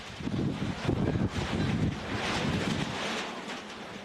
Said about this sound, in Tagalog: Sa kasagsagan ng ulan, halos tangayin na ng hangin ang bahay na ito sa JP Rizal.